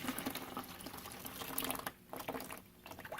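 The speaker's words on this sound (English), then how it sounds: "The water's going to drain away" Water drains and gurgles out of a Tyke Strike concentrator that has just shut down, a close, bubbly trickling that dips briefly into quieter pauses before resuming.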